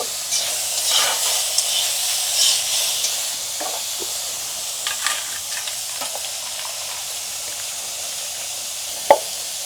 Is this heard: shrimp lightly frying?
yes